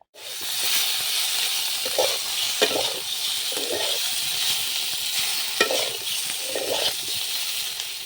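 Starch water is drained from a pot of freshly cooked rice, making a steady, close hiss of hot pouring liquid and steam broken by a few soft knocks of the pot.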